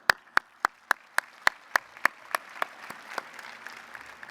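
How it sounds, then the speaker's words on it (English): A crowd at Orlando's State of Downtown civic address claps in a slow, evenly spaced rhythm of single sharp claps, which blur into looser, softer applause as they trail off. "a round of applause"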